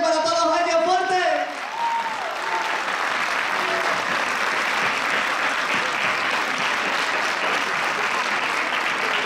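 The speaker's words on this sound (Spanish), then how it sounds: "ese último fuerte aplauso para ustedes y para todos los años fuertes." Audience applause at a Christmas concert in Palma del Río, a loud sustained clapping from a large hall crowd that swells in after a brief sung or spoken tail and continues steadily to the end.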